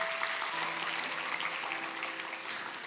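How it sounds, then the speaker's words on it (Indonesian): Church audience applauding in a large hall, a steady, fairly soft wash of clapping with a faint tone and murmur underneath. "Kita kasih tepuk tangan untuk mereka semua"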